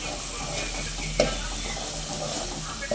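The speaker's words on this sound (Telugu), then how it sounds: "ఆ పేస్ట్ని ఆయిల్లో వేసాను" Spice paste frying in oil in a pan for a fish curry, with a steady, loud sizzle and occasional scrapes from stirring.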